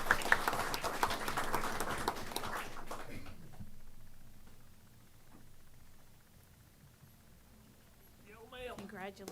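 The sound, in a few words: audience applause at board meeting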